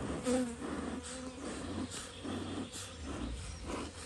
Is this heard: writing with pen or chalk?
no